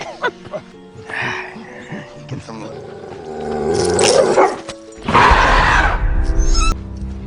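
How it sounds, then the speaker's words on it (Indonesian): A dog barks repeatedly at close range, its sharp bursts mixed with growling, and a louder rough snarl or roar-like burst breaks in near the end while a voice talks throughout. "si dogi nampak terintimidasi sehingga terus menggonggong ke arah Caesar"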